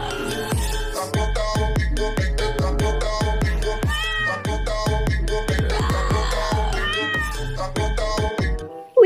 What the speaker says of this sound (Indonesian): Ada seekor kucing si Tom.